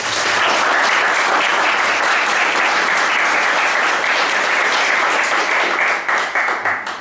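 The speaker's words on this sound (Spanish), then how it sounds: "les invito a que nos demos un aplauso por nuestro" Audience at a philosophy café session applauds steadily for about six seconds, a dense, loud wash of clapping that thins into a few scattered claps at the end.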